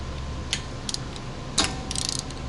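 A ratchet wrench works on the brake caliper of a Toyota Camry. Sparse, sharp mechanical clicks come in short bursts, with a quick cluster of ratcheting near the end, over a quiet workshop background.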